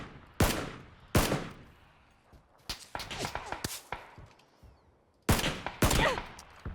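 Gunfire in the video game PUBG rings out as sharp, loud cracks, some single and some in quick clusters, with faint quieter shots and a little background noise between them.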